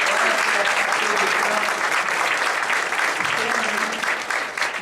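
A forum audience gives sustained applause for all the groups at the closing of the Fórum Interconselhos, thick even clapping from many hands, loud and continuous throughout.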